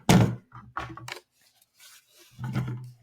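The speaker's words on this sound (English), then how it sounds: "you would just put your gun in your holster" A handgun is pushed into a holster, giving several close, dull thunks and scraping rubs in separate bursts, with brief quiet gaps and a firmer clunk near the end.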